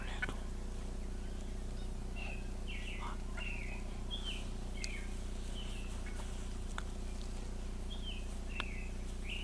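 Short, repeated bird calls come and go against a steady low hum outdoors during a Minnesota spring turkey hunt, several chirps spread across the stretch.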